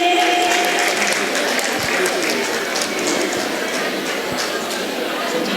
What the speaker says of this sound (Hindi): एक बार जोरदार तालियां इस होनहार बच्ची के लिए।